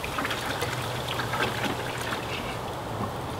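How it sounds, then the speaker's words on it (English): A hand swishes in water to clean the intake of a Titan paint sprayer, giving a steady, close sloshing and splashing that runs without a break. "just stick your hand in the water and clean it all off"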